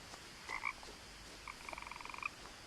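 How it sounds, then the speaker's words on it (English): Frogs croak in the video game What Remains of Edith Finch, with a couple of short croaks followed by a rapid rattling series, faint over quiet ambience. "I hear frog, but I no see frog."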